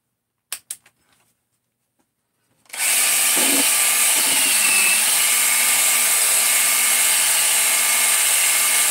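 A few faint clicks, then a drill spinning up to a loud, steady high whine as it turns a Scotch-Brite ball hone, running continuously and close by.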